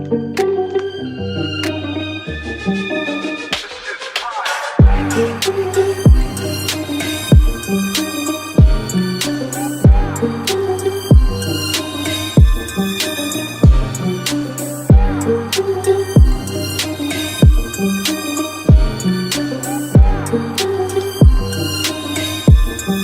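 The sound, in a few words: full trap beat with piano loop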